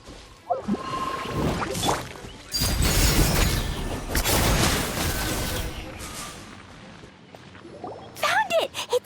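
Combat in Genshin Impact against Dendro slimes: bursts of whooshes, impacts and crashes swell and fade, with clustered sharp hits near the end and occasional voice effects.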